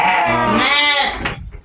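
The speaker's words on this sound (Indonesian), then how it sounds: "jumlah domba yang berada di sini sekitar 50 ekor" A sheep on a fattening farm gives one loud, close, wavering bleat lasting about a second, followed by a few faint rustles.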